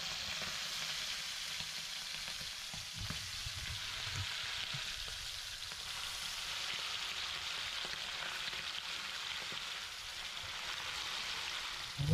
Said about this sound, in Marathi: म्हणजे आपल्याला गरमागरम तेलामध्ये टाकायचं. मग ते मस्त फ्राय होतं.